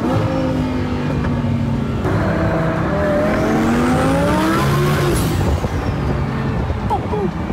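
A car engine revs hard and climbs in pitch as it accelerates, loud and close, with a rising tire squeal as traction breaks and rough broadband noise throughout.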